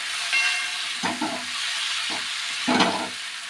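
Pineapple chutney sautéing in a pan, a steady frying hiss broken by a few short scraping stirs, close and fairly loud with no talk.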